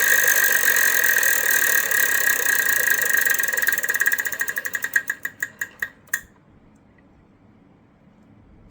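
Rapid clicking of a spinning Wheel of Fortune game-show wheel, the pointer flapping against the pegs in a fast, even chatter that slows to a handful of separate ticks and then falls silent.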